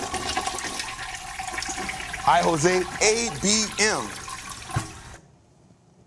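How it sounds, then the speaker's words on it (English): A household toilet flushes with a loud rushing, gurgling swirl of water that fills the clip and then cuts off, while someone talks over it. "Are we flushing or are we flipping"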